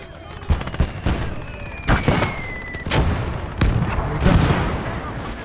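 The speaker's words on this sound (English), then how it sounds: "That sounded like a cook-up of one of our tanks." An exploding tank in a World War II video game, with a Panzer IV mentioned: heavy booms and gunfire crack in a dense, noisy battle, a whistling streak running through the middle and repeated loud blasts throughout.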